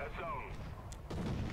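A tank cannon fires in the War Thunder game, a sharp blast around the middle of the moment followed by a louder heavy boom with a rumbling tail, amid steady in-game engine and battle noise.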